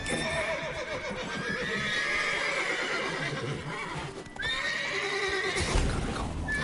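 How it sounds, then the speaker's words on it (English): Horses neigh and whinny repeatedly in a tense game scene, loud and close, with hooves clopping and shuffling under a dense, noisy background. "Gotta calm all the horses before they get"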